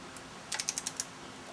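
Torque wrench tightening valve cover bolts on a 2000 Mitsubishi Galant SOHC 4G64 engine: a quick run of about six sharp, close clicks, evenly spaced, then quiet.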